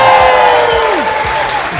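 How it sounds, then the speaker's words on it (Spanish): A brief round of audience applause for Verónica Toussaint at a live show, steady clapping with a gliding tonal sound on top that drops in pitch. "Fuerte aplauso, por favor, para Verónica Tusey."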